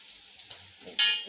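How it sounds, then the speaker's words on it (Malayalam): Onions frying for chicken biryani, a soft, steady sizzle that swells abruptly into a louder, brighter hiss near the end of a brief moment. "രണ്ട് ട്രിപ്പ് കൊണ്ട് വറുക്കാനുണ്ട്"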